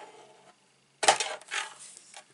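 Scissors or a trimmer cutting through a piece of card stock at a crafting table, a short crisp snipping and rustling burst after a brief silence, close and fairly quiet.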